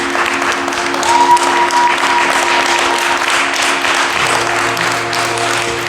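A church congregation applauds during a service, steady loud clapping that continues throughout, with sustained organ or keyboard tones held beneath it.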